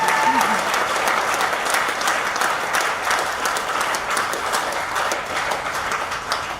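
An audience at a business training seminar in Lucknow claps together: loud, close, continuous clapping with a dense, even texture holds for the full six seconds.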